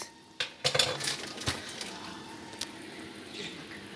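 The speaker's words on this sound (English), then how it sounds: "Just give it a mix." Tomato soup for Polish zupa pomidorowa stirred in a pot, a few sharp spoon clinks against the metal early on, then fading to a quiet simmer.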